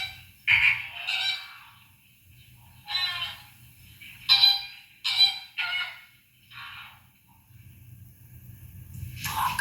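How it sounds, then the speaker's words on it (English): A pink flamingo calls in a series of short, harsh honking bursts, loud and close, with quiet gaps between them and a low rumble underneath. "I did not expect to see this next bird. The pink flamingo"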